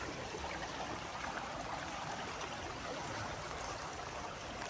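Water drains from a fishpond, rushing and trickling steadily, a continuous broad wash of flowing water at moderate distance with no other sounds.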